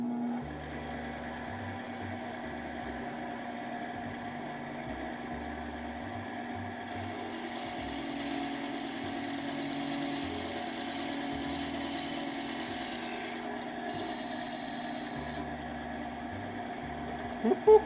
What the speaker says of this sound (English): And power tool noises.